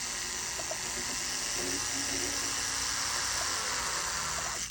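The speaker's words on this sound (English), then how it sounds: "give my drill bit a place to land. All right. Let's drill this out." Continuous high-pitched whine of a small power drill drilling out a sawed-off metal pin on a bracket link, running steadily and close throughout.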